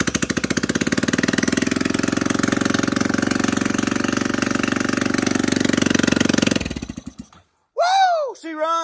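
A rebuilt Honda Rancher 350 ATV engine runs with a rapid, steady thumping beat, loud and close for several seconds before cutting out, after which a voice exclaims briefly.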